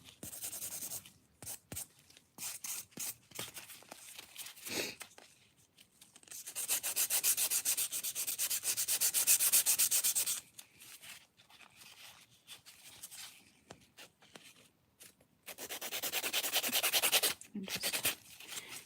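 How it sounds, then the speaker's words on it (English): A nail buffer lightly rubbing over fingernails finished with glitter, giving soft, close scratchy strokes in short bursts and longer steady passes, with quiet gaps between them. "Lightly buffing."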